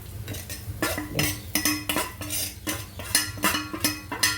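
Ground fish stirred into fried onions in a metal pan, with a spoon scraping and clinking against the pan in a steady rhythm, close and clear, no voices.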